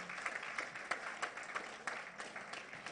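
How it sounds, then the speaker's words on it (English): Guests at a Yoruba book launch clap for a donor in a brief, quiet round of applause with a loose, pulsing rhythm of separate hand claps. "Please, can we clap for him?"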